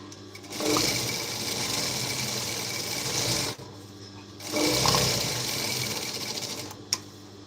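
A sewing machine runs in two long stitching passes on a blouse, its steady whirring hum stopping briefly in between, with a small click near the end and no talk.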